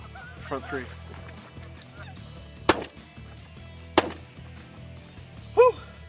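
Geese honk in scattered calls over a fenceline hillside during a goose hunt, with two sharp, loud cracks cutting through in the middle and a final close burst of honking.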